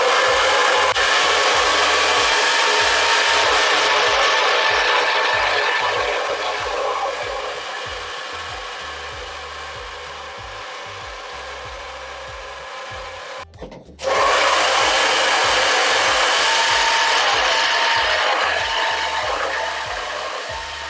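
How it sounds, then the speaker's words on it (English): Hair dryer blowing steadily while hair is brushed through with a boar bristle brush, a loud continuous whoosh that briefly cuts off near the middle and then resumes at full strength. "So I take it and I pass it through as I blow dry my hair."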